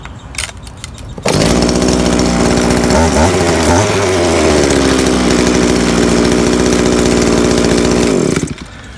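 A Shindaiwa F22 Home Pro 2-cycle weed trimmer, which had compression problems, pulls over and catches, then runs loud and steady for about seven seconds with a brief rev wobble before cutting off.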